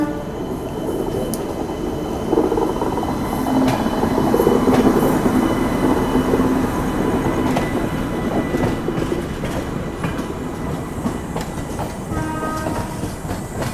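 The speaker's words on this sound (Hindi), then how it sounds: "पंडित दीनदयाल उपाध्याय जंक्शन से अपनी ट्रेन निकल चुकी है" The Vikramshila Express pulls out of Pandit Deen Dayal Upadhyaya (DDU) Junction in India, its wheels giving a steady, loud clickety-clack and rail rumble heard from on board, with no talk.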